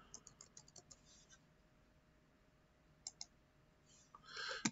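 Computer keyboard keys tap in short, faint clusters of clicks with pauses between, ending in a louder flurry of keystrokes, set against quiet room noise.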